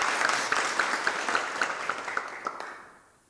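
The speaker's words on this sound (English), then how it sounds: "Let's give them a round of applause, please." Audience applause at a National Crime Victims' Rights Week luncheon, a steady patter of many hands clapping at moderate distance that fades out over about three seconds.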